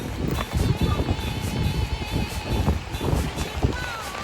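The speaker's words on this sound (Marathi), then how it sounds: "परत वाऱ्याने मला टक्कर दिली." Strong rain-laden wind buffets the microphone in rough, uneven gusts, with faint background murmur and a brief tonal whine near the end.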